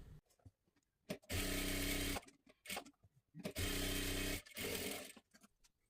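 Electric sewing machine stitching blouse fabric in two long, loud, continuous whirring bursts, close up, with quiet handling clicks and pauses between runs.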